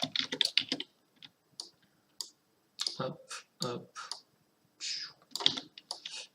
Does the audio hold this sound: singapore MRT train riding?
no